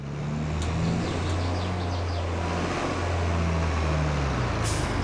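A trailer unloading in the Farming Simulator video game, with a loud, steady truck engine drone and broadband rumble throughout and a brief air-brake hiss near the end.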